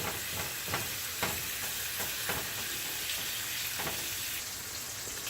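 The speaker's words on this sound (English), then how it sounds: "You can hear that sizzle." Pork sizzles while it fries crisp in a pan, giving a steady crackling hiss with soft scrapes and clicks as it is stirred. The sound is close and moderately quiet, with no voices.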